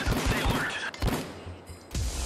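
Rapid bursts of loud, close gunfire from a hacked video game with no recoil, several quick volleys of shots separated by short pauses.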